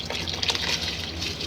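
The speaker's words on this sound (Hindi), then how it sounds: "अब हम इसके अंदर चावल शामिल कर देंगे।" Rice tipped into a pot of boiling water while making egg fried rice, a close, continuous splashing gush with bubbling liquid.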